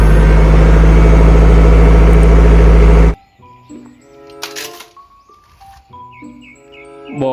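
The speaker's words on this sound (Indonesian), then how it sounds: "Mobil forklift." A forklift engine runs loud and close with a steady idling drone for about three seconds, then cuts off abruptly into quieter unrelated sounds.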